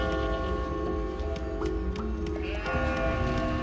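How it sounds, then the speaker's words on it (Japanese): Sheep locked in a cage bleat in the puzzle game Catherine: Full Body, a few wavering bleats heard over a steady tonal background of music and ambience. "なんで羊が入れられてんだよ"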